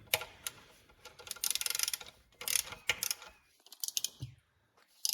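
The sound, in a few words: ratchet torquing bolts on Nissan 350z engine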